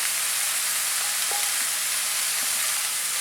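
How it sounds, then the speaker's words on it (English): Broccoli, blanched carrots and capsicum stir-fried over a high flame in a hot pan, giving a steady, close hiss of sizzling with faint scrapes of stirring and no talking. "Give it a nice mix."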